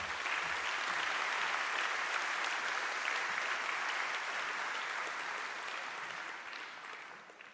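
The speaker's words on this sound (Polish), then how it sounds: "bardzo proszę raz jeszcze ogromne, ogromne brawa dla nich wszystkich" An audience at an awards gala applauds in a dense, sustained wash of clapping that holds steady and then tapers slightly toward the end, with no voices over it.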